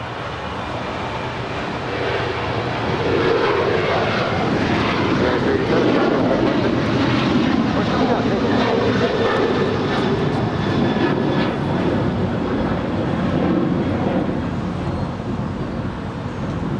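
A jet airplane takes off from runway 25 right at LAX, its engine roar swelling into a loud, sustained rumble that holds steady for many seconds.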